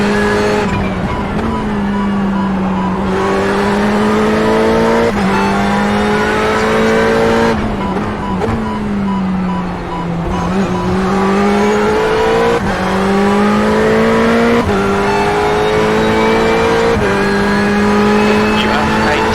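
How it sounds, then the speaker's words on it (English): Race car engines drone and rev through gear shifts in the iRacing simulator with squealing tires, a steady loud engine tone rising and dropping repeatedly, with someone talking over it. "But Charlie, why are you flashing when we're racing for position?"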